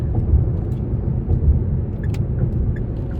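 Car driving in traffic heard from inside the cabin, a steady close low road rumble and engine drone with faint higher ticks, no talking.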